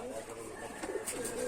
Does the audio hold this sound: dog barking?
no